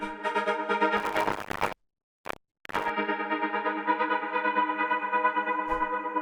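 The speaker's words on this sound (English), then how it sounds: "this is just kind of like a Transgate style pad" A dense, distorted synth pad with a filtered, buzzy tone, cut off briefly midway by a short gated blip before the sustained chord returns.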